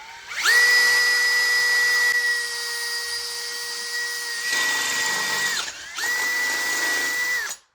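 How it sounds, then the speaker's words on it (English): A power drill whines at a steady high pitch while boring holes into the midsection of a Yamaha outboard motor. It runs loud and close in three sustained bursts with brief pauses, and no voices are heard. "Make sure not to press too hard when you drill."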